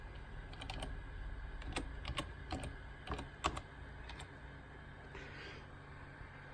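Someone types a name on a computer keyboard in a setup dialog for Golf 3.0 on a Windows 2000 machine, a quiet, close run of separate key clicks in an uneven rhythm with short pauses between them.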